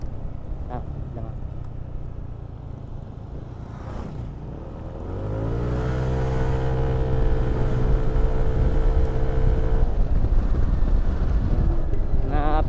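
A racing boat motor runs on open water, its drone building into a strong, steady roar that holds for several seconds. Heavy wind buffets the microphone throughout, and faint voices may sit under the engine noise.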